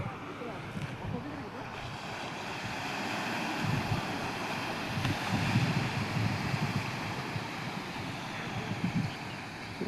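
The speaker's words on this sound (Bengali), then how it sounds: "কেমন ঢেউ আসছে।" Sea waves washing onto a sandy beach, a steady broad surf roar with gentle swells, overlaid by wind buffeting the microphone, with no talking.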